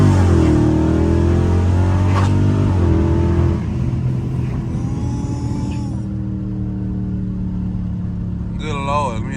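A Dodge Scat Pack's engine revs hard in cold weather with traction control off, its deep rising roar climbing and then easing off into a steady, loud rumble close by.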